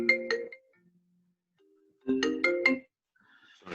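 A mobile phone ringtone plays two bursts of quick bright chiming notes with a silent gap between them, near and clear, followed by a faint voice at the end.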